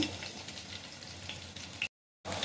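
Garlic and bay leaf sizzle in hot oil as a tempering for jackfruit curry, a close, steady crackling hiss that holds evenly before cutting out briefly near the end.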